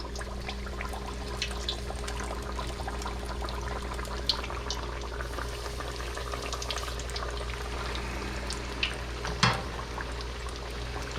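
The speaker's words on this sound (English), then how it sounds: "we're going to start dropping the chicken in" Chicken pieces deep frying in hot oil for Korean-style fried chicken, a steady close bubbling sizzle that holds throughout, with a few brief clinks and pops, one sharper near the end.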